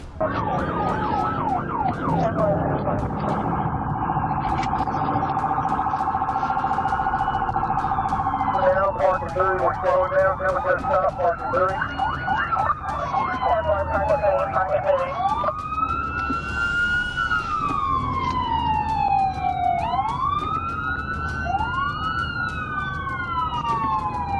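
A loud, close ambulance siren wails and cycles through rising and falling tones, switching between patterns, with a vehicle's hum underneath.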